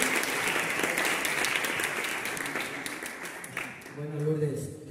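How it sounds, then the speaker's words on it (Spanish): Audience at an anniversary event of an anti-sexism conference applauds as a guest is invited up, sustained dense clapping that thins out, with a voice starting to speak near the end. "vamos a darle un aplauso"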